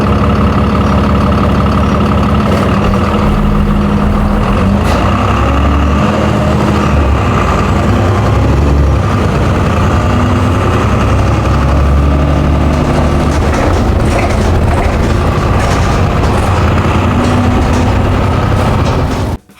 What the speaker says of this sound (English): nothing beats the sound of a good old diesel engine